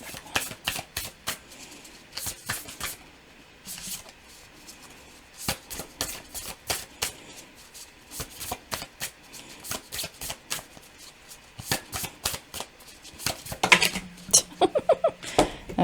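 Tarot cards being shuffled in repeated quick riffling bursts, close and fairly loud, with a denser clatter of cards near the end and no talking.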